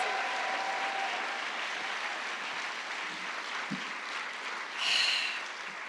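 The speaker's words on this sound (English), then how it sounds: "one more round of applause for all of our fantastic finalists" An audience at the National Book Awards applauds the finalists with steady, sustained clapping that fills the hall evenly, with a brief swell of cheering near the end.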